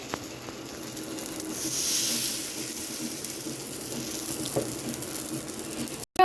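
Dosa batter spread on a hot pan gives off a soft, steady broadband sizzle and hiss that swells slightly in the middle, with a few faint clicks, close by and without talk.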